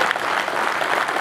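An audience at a political youth meeting in Bazar-Korgon district breaks into dense, steady applause for the organizer Dinara; the clapping is loud and continuous from start to end.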